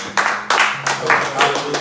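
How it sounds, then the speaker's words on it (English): Bursts of clapping from a group, rising and falling in a few waves over about two seconds, with a low hum underneath. "y'all give a round of applause for the elder"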